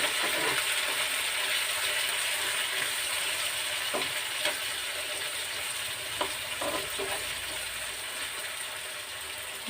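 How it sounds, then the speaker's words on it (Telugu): Onions and fresh ginger-garlic paste fry in hot oil for veg biryani, giving a steady close sizzle broken by a few sharp clicks of stirring against the pan. "ఉల్లిపాయలు వేసిన తర్వాత కొంచెం అప్పటికప్పుడు చేసుకున్న అల్లం వెల్లుల్లి తీసి వేస్తున్నాను"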